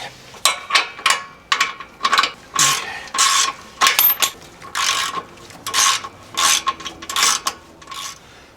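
Repeated bursts of ratchet clicking, close and crisp, from a wrench tightening the lower shock bolt on a Chevy Tahoe, in a steady stroke-by-stroke rhythm with short gaps between pulls.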